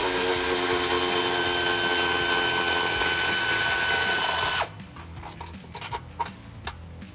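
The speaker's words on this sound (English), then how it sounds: "So we're gonna go ahead and thread these out." A power tool spins out 19 mm frame bolts on a Jeep Wrangler JL to remove the rear bumper, a loud, steady whirring drone for several seconds that cuts off abruptly, followed by a few light clicks and taps.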